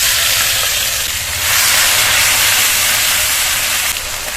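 Crushed garlic and green chili hit hot mustard oil with kalonji, setting off a loud, steady, close hiss that swells slightly midway and holds without pause; no speech.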